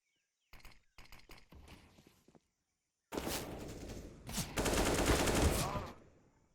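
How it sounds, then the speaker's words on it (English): Gunfire in a Counter-Strike esports match, including a Desert Eagle pistol: a few sharp, spaced single shots, a brief pause, then loud dense bursts of rapid fire that build and then fade out. "Zyphon actually is able to collect the kill on the Deagle."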